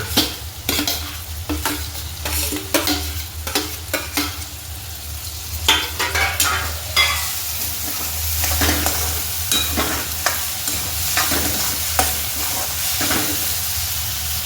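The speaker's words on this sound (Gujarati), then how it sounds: "જો હવે ટમેટા નાખી દઉં." Tomatoes go into hot oil and are fried and stirred, making a loud close sizzle broken by repeated scraping stirs throughout, with no voices.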